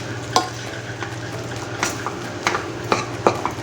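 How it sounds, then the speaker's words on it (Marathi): A spoon stirs potato filling in a pan right after peanut powder has been added, with a few sharp scrapes and clinks against the metal over a low steady sizzle; no one speaks. "त्यामध्ये हे शेंगदाण्याचं फूड घालायचं आहे आणि चांगलं असं ढवळून घ्यायचं"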